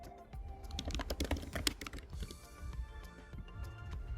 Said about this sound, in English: In the main search bar, you will type Grant Wood and click on the search button.